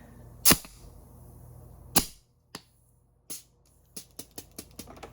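A Nerf blaster powered by high-pressure air from a bike pump firing, giving sharp sudden pops, two loud shots then quieter ones, ending in a quick run of small clicks, close with no talking.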